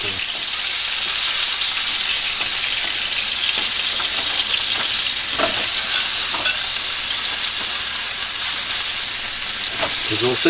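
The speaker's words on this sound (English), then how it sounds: "And we're going to let the bacon do its cooking." Bacon sizzling in a pan, a loud steady hiss of frying fat with scattered pops and crackles close up, continuing without a break and with faint talk behind it.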